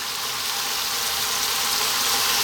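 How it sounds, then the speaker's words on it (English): Diced red onion hits a hot pan and sizzles loudly and steadily, a close, bright hiss holding constant throughout with no voices. "What we're going to do now is drop in our diced onion"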